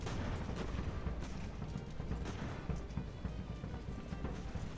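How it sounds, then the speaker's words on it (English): Enemy field artillery firing in Ultimate Admiral: Age of Sail during the Battle of Bunker Hill, a dense, continuous rumble of distant cannon booms and musketry with no clear pauses, steady and moderately quiet throughout. "Quite a lot of enemy artillery"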